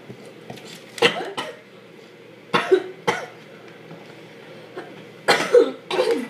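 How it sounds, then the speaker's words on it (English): Several short, sharp coughs spaced irregularly, close by, with faint clinks of dishes in the background. "Excuse me, I coughed."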